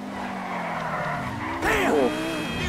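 A Lamborghini supercar drifting in GTA 5, engine droning steadily and then a loud tire squeal and skid bursting in near the end before the engine tone carries on, with a voice talking over it.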